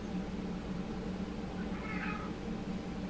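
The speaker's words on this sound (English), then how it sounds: "I've never heard you meow so coarsely." A pet cat meows coarsely, a single rough, hoarse meow rising over steady low background hum, close by and fairly quiet.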